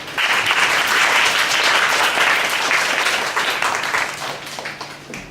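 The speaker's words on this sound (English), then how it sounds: "Let's clap our hands to thank our classmates." A classroom full of students applauding, loud and steady clapping that slowly tapers off toward the end.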